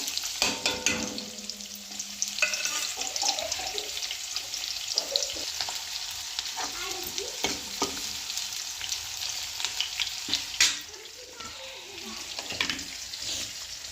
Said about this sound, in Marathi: तेल गरम करून झालेलं आहे. आपण टाकूया आता कांदा.